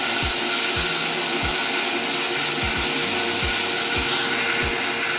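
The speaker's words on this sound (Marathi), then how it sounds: "हे मी मिक्सरला फिरून घेते." Kitchen mixer grinder grinding soaked rice for dosa batter, a loud continuous motor whine with recurring low thumps as the rice churns in the jar.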